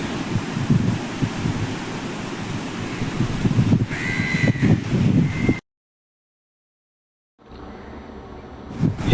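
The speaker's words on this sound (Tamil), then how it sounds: "அந்தளவுக்கு காற்று அடிக்குது மேலே." Strong wind blows across a clifftop above a beach in South Goa, battering the microphone with loud gusty roaring over distant surf, cutting out completely for a couple of seconds before returning.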